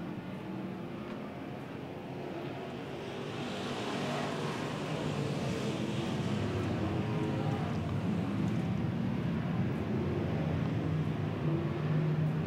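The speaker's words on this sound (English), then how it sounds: "green flag coming out right now for your 20-lap Pure Stock feature event" Pure Stock race cars roar off at the green flag of a 20-lap feature, a dense engine drone that swells after a few seconds and holds loud and steady as the pack runs together.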